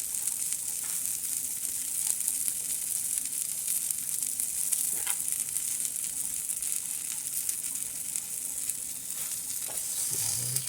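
Birria burritos crisp in a hot pan with a constant, close, crackling sizzle, with faint scrapes and taps throughout.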